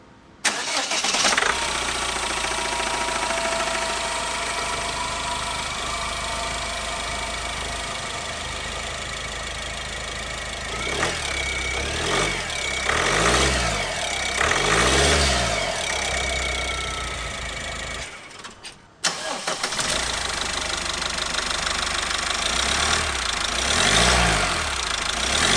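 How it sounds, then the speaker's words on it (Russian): Sollers Atlant van with a 1.9 engine idling, a steady mid-pitched rumble with a slight rise and fall, briefly cutting out before settling back into an even idle, close and loud with no talk. "Ну, а сейчас давайте послушаем, как работают наши двигатели."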